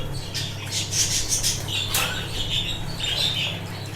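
An English budgerigar in a wire cage flaps about and gives a run of high, scratchy squawks and chirps, fairly close and steady over a low background hum, with no talking.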